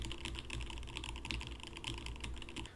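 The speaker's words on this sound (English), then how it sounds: "I'm gonna do a quick typing test over here and see if it picks up any keyboard tests or keyboard clicks" Rapid clicking keystrokes on a Rama computer keyboard, part of a gaming setup, form a dense continuous patter of typing heard close up with nothing else over it.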